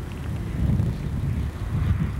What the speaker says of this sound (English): Wind blowing about 30 miles an hour